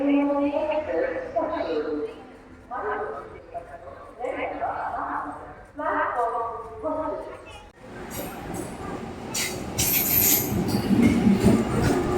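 Link MEMU train running between Narasapur and Machilipatnam, a steady rumble with rising clatter and high wheel squeal in the second half, with people talking over the first part.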